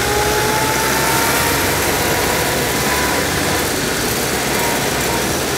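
The engine of a 1929 Dennis G-type fire engine runs loudly and steadily at idle, a constant low throbbing rumble with a rough mechanical texture and no voices.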